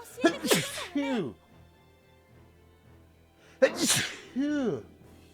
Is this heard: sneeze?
yes